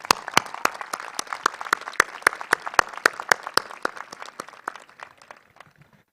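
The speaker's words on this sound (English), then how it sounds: "Please, a big round of applause for Mrs. Magda Musa and Dr. Ismail Osman." A crowd at a school graduation ceremony claps with distinct, fairly slow, sharp claps that sound close and separate. The applause gradually thins and fades over about six seconds.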